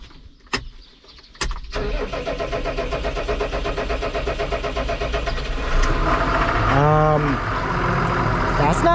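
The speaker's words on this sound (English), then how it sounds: "This thing ain't running right." A farm side-by-side utility vehicle's engine cranks, catches and then runs unevenly at a rough, loud idle close by, with a brief rising whine near the end.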